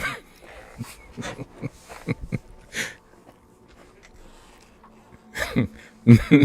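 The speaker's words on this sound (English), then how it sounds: "Tell my dog to pipe down." A pet dog indoors gives short, loud barks and whimpers in scattered bursts, with a sharper cluster near the end, mixed with a person talking nearby.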